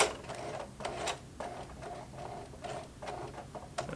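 Singer Heavy Duty sewing machine stitching a thick denim jeans hem, an uneven run of rapid mechanical needle bursts with short pauses between, close and fairly loud.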